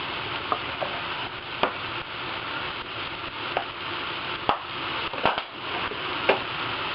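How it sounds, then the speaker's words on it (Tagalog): Chicken sautéing in a pan for molo soup, a constant close sizzle with occasional spoon or spatula taps as it is stirred, no one talking. "Kailangan lang natin i-saute itong chicken for a while."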